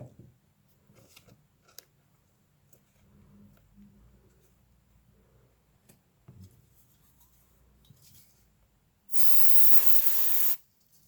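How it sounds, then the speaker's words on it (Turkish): A burst of spray adhesive hisses onto a basket woven from corn husks. Faint handling rustles come first, then a loud, steady spray lasts about a second and a half near the end. "Ve sprey yapıştırıcı ile sabitliyorum."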